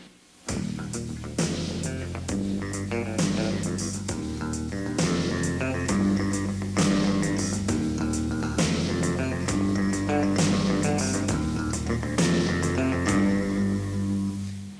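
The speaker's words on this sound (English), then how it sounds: "I'll just play along with drums, bass, synthesizer, and bass guitar" Bass guitar plays a steady groove over a drum beat and synthesizer, a full, continuous band sound with no voices.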